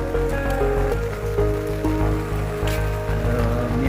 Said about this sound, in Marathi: आज पुन्हा आमच्याकडं पाऊस चालू झाला आहे.